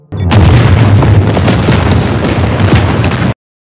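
A loud explosion from an action film scene, where a building blows up after explosives are planted, booming with dense rumbling debris for about three seconds before cutting off abruptly.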